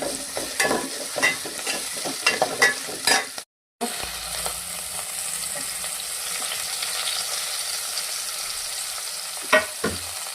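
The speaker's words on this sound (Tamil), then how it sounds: "வெங்காயம் நல்லா வதங்கிட்டேங்க" Onions sauté in a pan for a poori potato masala, with repeated spatula scrapes and stirring clatter over a steady frying sizzle, close and fairly loud, pausing briefly before the sizzle continues with a few more strokes.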